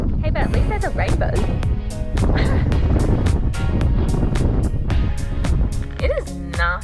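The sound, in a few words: strong wind and rain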